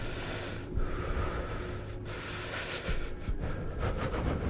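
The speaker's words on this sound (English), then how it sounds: "Heavy breathing." Heavy, rasping breaths and snorts hiss steadily and close, filling the moment with a rough, continuous panting texture.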